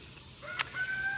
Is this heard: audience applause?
no